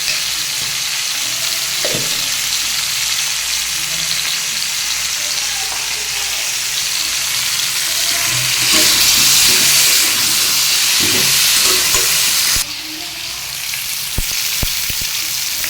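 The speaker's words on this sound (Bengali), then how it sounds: "দেখুন আমার কুমড়োটা ভাজা ভাজা হয়ে গেছে" Pumpkin pieces fry in a pan with a loud, continuous hiss and sizzle, broken by occasional scraping and stirring clatters of a spatula, steady throughout with a brief dip near the end.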